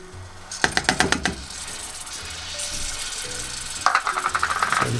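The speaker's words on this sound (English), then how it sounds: "Then we're going to add our butter to that." Butter goes into a hot pan of sesame snap mixture with the heat just turned off and is stirred in: two bursts of metallic rattling and clattering against a soft background sizzle, close and moderately loud, with no talking.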